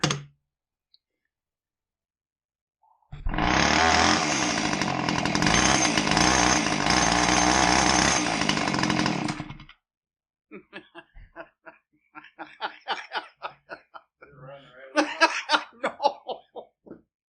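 A Husqvarna 450 chainsaw, fault causing it to run backwards, pull-started: a short pull, then the engine roars loud and steady for about six seconds before cutting off, followed by scattered clicks, laughter and coughs.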